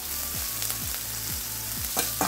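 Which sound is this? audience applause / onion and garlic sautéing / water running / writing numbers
onion and garlic sautéing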